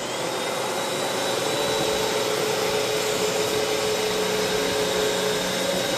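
A Royal Multifloor bagged vacuum cleaner with a fresh bag runs on its high airflow setting, giving off a loud, steady whine and rushing drone that holds unbroken from start to finish with no voices.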